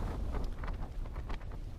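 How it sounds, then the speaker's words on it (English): Strong, gusting wind roars across a mountain camp at 3337 feet in the Cairngorms in February, gusts around 35 to 38 mph, buffeting the microphone in a continuous loud rumble with no voices. "the wind's kicking about, it's gusting probably about 35-38 mile an hour for now"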